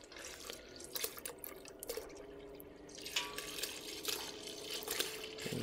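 Rendered bear grease poured through a filter, a soft continuous liquid trickle with faint drips and small clinks, quiet and close.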